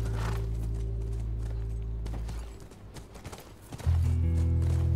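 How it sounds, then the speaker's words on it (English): Horse hooves clip-clop in The Last of Us Remastered near a ranch, a rhythmic series of fairly close hoofbeats over a steady game music drone, with a whinny and a louder swell of music at the end. "That's our horse."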